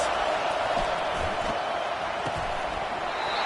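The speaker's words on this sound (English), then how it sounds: "Listen to this crowd just shaking the girders of this place, trying to help their defense." A packed college football stadium crowd roars steadily during a defensive play, a dense continuous wash of cheering and noise filling the clip from start to end, loud and unbroken.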